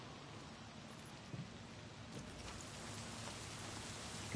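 Faint steady rainfall in a video game, a soft even hiss of drops with a couple of small taps, quiet and continuous throughout.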